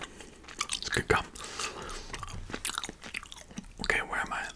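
Vive spearmint gum chewed close to the mic, with repeated moist smacks and clicks in an uneven rhythm, mixed with soft whispered talking.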